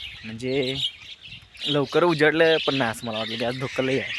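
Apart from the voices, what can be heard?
birds chirping in the morning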